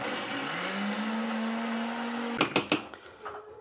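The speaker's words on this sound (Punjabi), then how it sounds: "ਹੁਣ ਇਹਨੂੰ ਆਪਾਂ ਮਿਕਸੀ ਦੇ ਵਿੱਚ ਤਿਆਰ ਕਰ ਲੈਂਦੇ" A kitchen mixer grinder whirs loudly and steadily while grinding spinach into paste for palak paneer, then stops, followed by a few sharp knocks and clatters of the jar.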